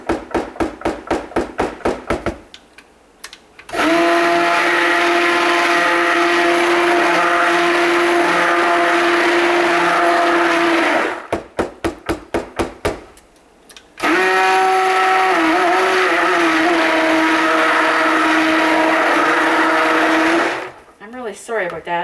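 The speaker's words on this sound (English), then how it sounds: "So I'm just going to stick blend that just a tiny bit before I add" Stick blender mixing a batch of cold process soap, loud steady whirring in two long bursts separated by short stuttering pulses, with a few more quick pulses at the end.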